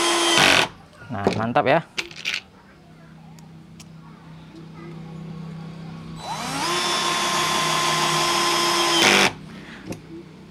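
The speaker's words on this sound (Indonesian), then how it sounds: "Jadi kalau kita pakai drill ini untuk screw driver, itu udah ada batasannya" An INGCO CIDLI20025 cordless drill drives screws in short whirring bursts followed by a longer sustained run, with someone talking between the bursts.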